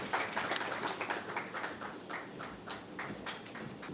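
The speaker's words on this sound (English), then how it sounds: "Let's give them a round of applause as they come." An audience at an entrepreneurship week event claps as two panelists walk on stage, a dense, sustained round of applause with distinct individual claps throughout.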